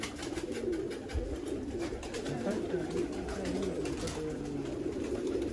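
Sialkoti pigeons on a rooftop coo in low, throaty repeated calls, close and steady, with someone talking over them.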